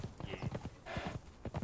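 Horse hooves clip-clop in a steady rhythm in the video game Conan Exiles, and a short whinny rises partway through. The sound is moderately faint.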